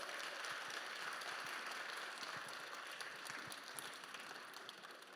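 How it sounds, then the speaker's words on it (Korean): Audience applause at a marine industry forum talk, a dense, steady wash of clapping from a large crowd that carries on for about five seconds and eases slightly near the end. "다시 한번 큰 박수 부탁드리겠습니다"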